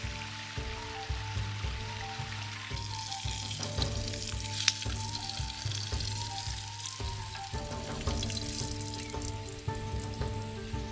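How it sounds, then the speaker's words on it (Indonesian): Steady sizzling of garlic, shallots and chili frying in hot oil, close and continuous, with occasional stirring scrapes and faint clinks. "saya langsung saja menggoreng beberapa bawang putih, bawang merah, dan juga cabai"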